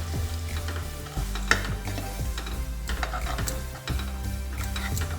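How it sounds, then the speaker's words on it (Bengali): Spice paste for Bengali shukto fries with a little water in a pan, a steady close sizzle broken by repeated scraping stirring strokes, with no voices. "একটু জল দিয়ে দিচ্ছি মশলাটা যাতে ভালোভাবে কষা যায়।"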